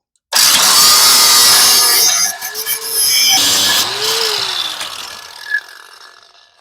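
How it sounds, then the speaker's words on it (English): A power tool cuts a stud off on a Chevrolet Aveo, starting abruptly with a loud, harsh grinding screech that wavers and dips before winding down and trailing off to silence, close. "So I'm just going to go ahead and cut the stud clean off, and that'll just pull right out of there."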